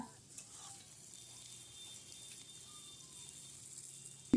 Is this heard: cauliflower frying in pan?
yes